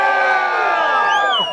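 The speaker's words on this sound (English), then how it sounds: "let's hear a big cheer" A crowd of children at a camel dairy event cheering and shouting together in one loud, sustained burst that trails off at the end.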